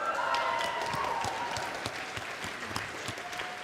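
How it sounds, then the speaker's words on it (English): Audience applause inside a church fills the space at a steady moderate level, a dense spread of claps with a few sharper individual hits, while faint voices murmur underneath. "Let's get another round of applause."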